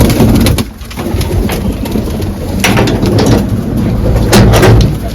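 Pigeons coo while pecking at scattered grain, soft throaty rolling calls close by with a few sharp clattering and knocking sounds in between.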